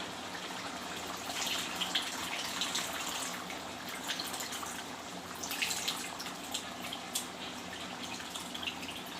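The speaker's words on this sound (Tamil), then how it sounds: "இந்த நேரத்தில் நம்ம கரைச்சி வச்சுருக்கிற புளி தண்ணியை இதில் சேர்த்துக்கலாம்" Tamarind water pours steadily into a cooking pot of bitter gourd pitlai, a continuous splashing gush with faint bubbling, close and fairly quiet throughout.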